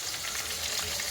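Amaranth leaves frying in a pan, a continuous close hiss and sizzle throughout, with no talking.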